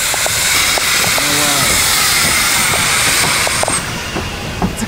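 Mocănița steam train passing nearby, loud and continuous, with a steady hiss, wheel clatter and brief squeals from the rails, easing off a little toward the end.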